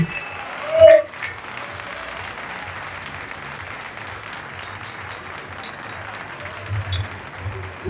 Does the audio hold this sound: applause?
yes